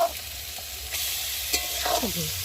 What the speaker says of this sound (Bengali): চলো এবার ভাতগুলোকে দিয়ে ভালো করে একটু ভেজে নেব